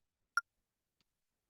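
A single short, high-pitched electronic text-scroll blip from a video game, quick and snappy, then a faint tiny echo of it in near silence.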